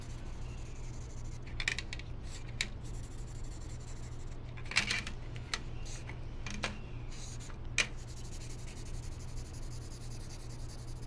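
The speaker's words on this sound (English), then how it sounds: "let me do some shadowing for you just to enhance the drawing" A pencil shades a sketch on paper, soft scratchy strokes arriving in short bursts over a low steady hum, close and faint with no talking.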